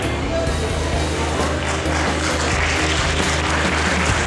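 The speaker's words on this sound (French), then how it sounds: "On va applaudir." Audience applause at a podium ceremony for the 33rd Laval half-marathon, a steady dense patter of clapping held at even loudness throughout, with a low hum and a voice talking underneath.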